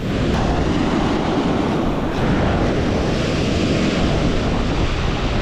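Waves roll onto a Lake Erie beach in February, a loud, continuous roar of surf mixed with strong wind buffeting the microphone, with no talking.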